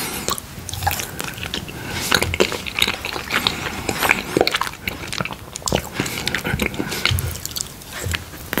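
Soft, sticky biting and chewing of chocolate mochi ice cream, close and intimate, with moist smacks and squishes repeating steadily throughout and no talking.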